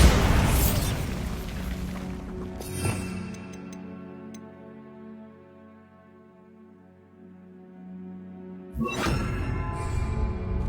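A spell explosion in the Hogwarts Legacy video game, a loud boom with a bright crackling burst, then a sustained ringing tonal drone that fades before another dense blast of game noise near the end.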